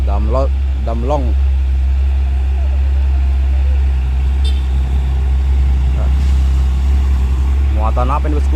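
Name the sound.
truck driving by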